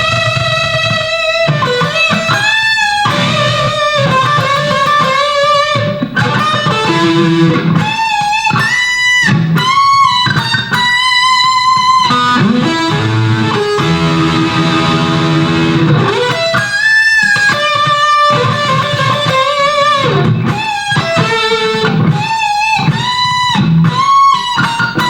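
Distorted electric guitar plays a guitar solo in standard tuning, a fast continuous run of bent and picked lead notes over a loud, steady backing, heard alone without talk.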